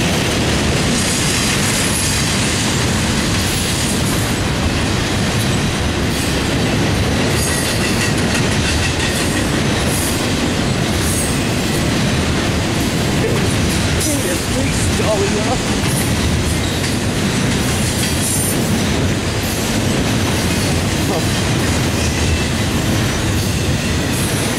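A long CSX intermodal freight train rumbles past close by, loud and steady, with continuous clattering wheels and occasional metallic squeals throughout.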